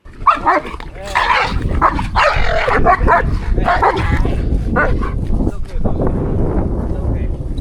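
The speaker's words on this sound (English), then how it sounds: "this dog is barking at me" A dog barks and yips repeatedly in quick bursts, with people talking at the same time and some background noise.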